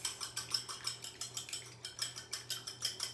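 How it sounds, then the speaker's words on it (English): Egg whites being lightly whisked in a bowl for pumpkin muffins, a steady rhythm of quick metallic clinks at roughly three strokes per second, close and moderately loud with no talking. "So I'm just going to lightly whisk those egg whites."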